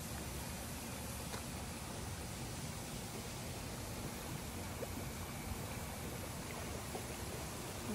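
In a rose garden, a water pump drives water through a pond, giving a steady, even rushing flow like a small stream, close and continuous with no voices.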